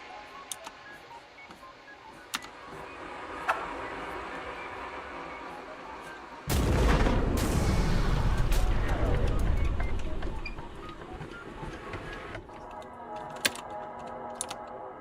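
A bomb thrown and exploding in the game Shadows Over Loathing, a sudden loud broadband blast that rumbles for several seconds over a quieter background of clicks and tones, with no talk.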